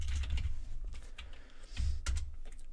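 Fast typing on a computer keyboard while entering JavaScript code, a steady run of close, crisp key clicks with a few louder thumps, no voices.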